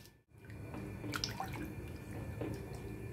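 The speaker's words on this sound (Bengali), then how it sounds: "জলের মধ্যে নুনটা একটু মিশিয়ে দিচ্ছি।" A hand stirs salt into a bowl of water for washing cauliflower leaves, giving soft, close sloshing and dripping sounds that continue gently throughout.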